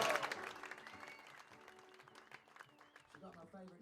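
Applause from an audience for a woman named Lizzie B, fairly faint and dense at first, thinning into scattered claps with some voices mixed in over about four seconds.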